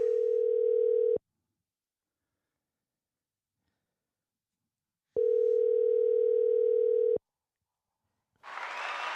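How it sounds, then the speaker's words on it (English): A telephone dial tone sounds loud and steady for about a second, stops, then returns for two more seconds while a call is being placed; a burst of noise follows at the end. "Let's get Jules on the phone"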